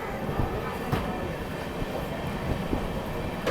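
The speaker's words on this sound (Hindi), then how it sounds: "अनुग्रह नारायण रोड से भी अपनी ट्रेन का डिपार्चर हो चुका है" An Amrit Bharat Express train leaves Anugrah Narayan Road station with a continuous rumble and rattle of rail cars, broken by a few faint clicks and knocks of wheels on track.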